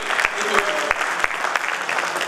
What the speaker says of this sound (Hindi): जोरदार तालियां सर